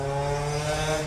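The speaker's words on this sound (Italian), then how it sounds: "È passato un motorino," A small moped buzzes by on a street, a steady, fairly loud engine whine with no break over the short moment.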